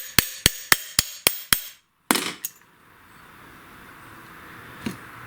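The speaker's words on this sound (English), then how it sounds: "Always use a brass hammer when you're tapping directly on your parts." Six sharp, evenly spaced metallic taps from a brass hammer on lawn mower deck spindle parts ring out, then a pause, a couple of heavier strikes, and a quiet shop background.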